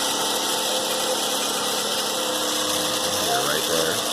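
A 2005 Toyota Camry engine runs with a PCV valve rattle, a steady close-up idle hum carrying a dense buzzing rattle that holds throughout.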